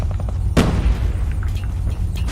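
A loud, sudden explosion in Call of Duty: Mobile booms out, followed by a rumbling tail and steady low background noise.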